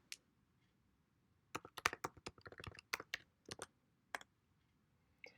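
A password is typed on a computer keyboard: after a quiet start comes a fast burst of crisp key clicks, then a few slower, separate taps and one last click, close and clear.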